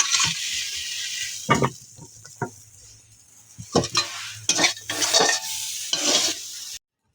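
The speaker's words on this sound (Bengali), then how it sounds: "আমাদের ওল ভাজা ভাজা হয়ে গেছে" Elephant foot yam sizzles in a pan while it is stirred, with scraping and clinking bursts of the spatula against the pan over a soft frying hiss.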